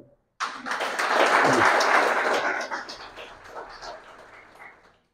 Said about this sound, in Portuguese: Um aplauso ao Uni.